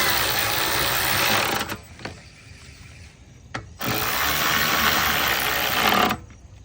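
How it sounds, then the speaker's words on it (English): A power tool tightens fasteners on a radiator being installed in a 2003 Lexus GS430. It gives two loud, steady buzzing runs of roughly two seconds each, with a quieter gap between them. "I really shouldn't even be doing this with a power tool"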